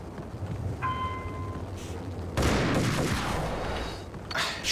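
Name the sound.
shotgun shots in the Max Payne video game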